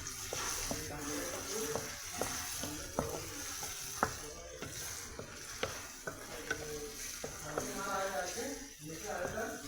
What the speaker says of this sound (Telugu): ఇందులో వేసుకుని మంచిగా మిక్స్ చేసేయండి